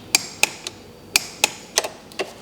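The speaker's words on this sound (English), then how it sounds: "This 8 mm here, I will torque it to 8 Newton meter." Sharp metallic clicks of a torque wrench tightening an 8 mm bolt on a Yamaha WR450F engine, a few close, crisp clicks in uneven pairs over quiet background.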